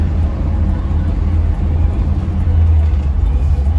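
A 1977 Pontiac Trans Am SE400 cruising in fourth gear, a steady low engine drone and road rumble heard from inside the cabin, loud and constant, with someone talking over it.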